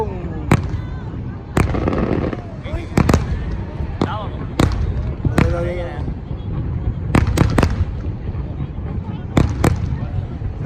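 New Year 2020 fireworks at Landmark 81 burst in sharp, loud bangs at irregular intervals, close by, with a crackling, rumbling din between them and people talking underneath.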